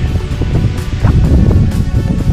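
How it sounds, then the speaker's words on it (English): Strong gusting wind of about 40 mph with misty rain roars continuously against the microphone at high elevation in Dolly Sods, West Virginia, with loud, buffeting low rumble and rushing air throughout. "we got about 40 mile an hour gusts, constant mist rain in the air"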